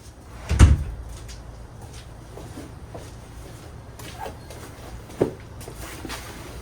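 A cupboard door in a garage opens with a loud knock and rattle, followed by quiet shuffling and a second, softer clunk a few seconds later.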